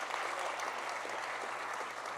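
Audience applause at an anniversary charity gala, a sustained even wash of many hands clapping at a moderate distance, fairly faint overall and without speech.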